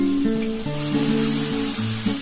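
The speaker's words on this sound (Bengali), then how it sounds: "এবার আমি মশলাটাকে ভালো করে কষিয়ে নেব" A paste of mustard, poppy seed and green chilli with a little turmeric frying in a pan, a steady bright sizzle running throughout beneath tonal background music.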